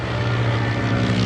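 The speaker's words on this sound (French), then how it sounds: "il y a un moteur de l'époque qui tourne comme les moteurs de cette époque, extrêmement lentement" A Bristol Fighter biplane at the La Ferté Alais air show, its period engine turning very slowly with a loud, steady low drone and propeller throb, close by and continuous, with no voices.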